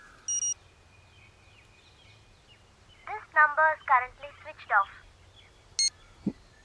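Telephone keypad tones beep as a phone call is dialed, one short tone burst at the start and another near the end, with a voice speaking in between.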